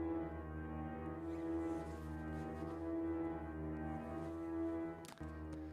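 Fully wet grand piano hall reverb played in reverse gives a smooth, swelling wash of sustained tones that builds toward each note change, quiet and continuous with a brief sharp transient near the end.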